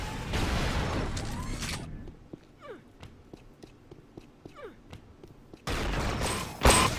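Flak cannon fire in a Unreal Tournament 1v1 duel, with bursts of loud blasting at the start and end framing a quieter middle of sparse clicks, footsteps and short sweeping shots.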